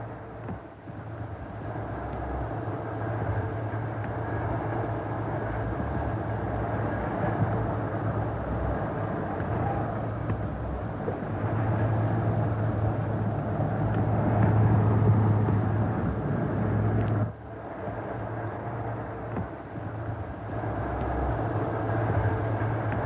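Steam train pulling into Junction Road Halt on the Tenterden heritage railway, a steady close rumble of the locomotive and carriages that swells, then drops suddenly before resuming.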